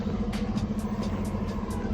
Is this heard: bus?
yes